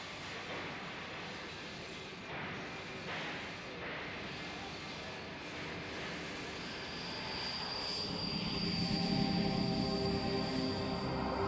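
A Eurofighter Typhoon jet aircraft roars steadily through the air, its broad engine noise swelling louder toward the end as it passes closer.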